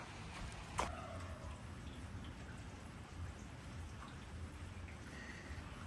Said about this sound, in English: let me get some work done before it starts raining too much heavier on me